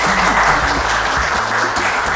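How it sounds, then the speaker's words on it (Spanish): Studio audience on an Ecuadorian TV comedy show breaking into sustained, dense clapping, loud and even across the short stretch with no talk over it. "aplauso"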